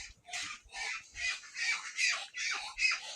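Poultry in a village bird yard give a run of about eight harsh, rhythmic squawks, fairly faint and close together, with no voices.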